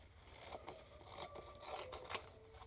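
Scissors snip through a piece of paper card for a grunge-style journaling card, a few quiet close cuts with faint scraping over about three seconds.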